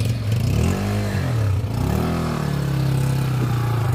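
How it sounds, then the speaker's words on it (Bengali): A motorcycle ridden along a road on the way to a pilgrimage site, its engine droning steadily up close with rising and falling revs and a constant loud rumble. "মোটর সাইকেল চালিয়ে যাচ্ছেন ধামে"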